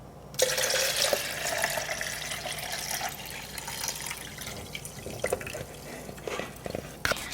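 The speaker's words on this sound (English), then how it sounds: "And then I need to fill up the water tank to the top." Tap water runs steadily into a coffee machine's water tank, filling it to the top while descaling solution is prepared, with a continuous splashing pour and a few clunks of handling.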